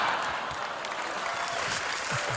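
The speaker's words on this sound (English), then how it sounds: "Why did they really clap like that?" Audience applause at a Tony Robbins seminar, a dense, steady wash of clapping from a large crowd that holds even and loud for the whole stretch, with no voices over it.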